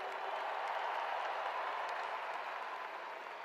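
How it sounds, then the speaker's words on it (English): Steady applause from the crowd at the University of Georgia national championship celebration, after the administration is thanked. A dense, even wash of clapping holds at moderate level for the whole stretch, with no voices over it. "Give them a round of applause, please."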